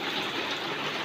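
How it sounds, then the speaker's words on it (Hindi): Heavy rain pouring just outside an open door during a downpour, a dense steady broadband hiss that stays loud and unbroken throughout the short moment with no voices. "ये देखिए कितनी तेज़ बारिश"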